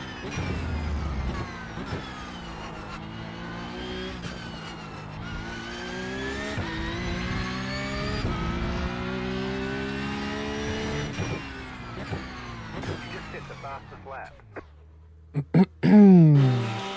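A Porsche Cup race car in RaceRoom at Spa, its engine howling through long rising and falling revs and gear changes, loud and close, with a sharper squeal and a few abrupt bursts near the end.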